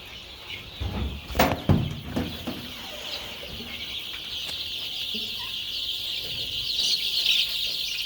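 Farm-raised chickens cluck and stir close by, with a few louder bursts early on over a steady high hiss of farm background noise.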